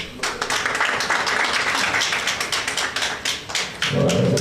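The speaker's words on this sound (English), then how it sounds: "round of applause for him again" A photographers' congress audience in Gambia gives a round of applause, dense steady clapping from many hands filling the room, close and loud, with a brief murmur near the end.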